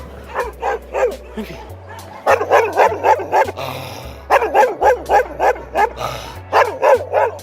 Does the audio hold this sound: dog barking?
yes